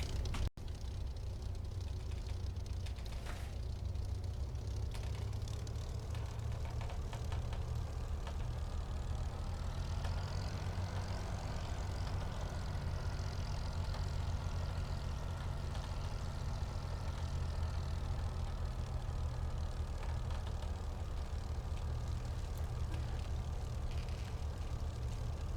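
A Hawker Hurricane Mk1's piston engine rumbles steadily as the fighter taxis in a flight simulator, a continuous low drone that swells slightly midway and holds on without pause.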